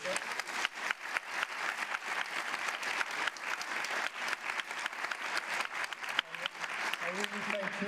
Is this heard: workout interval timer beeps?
no